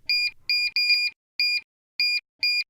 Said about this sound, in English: the machine will beep when any button is pressed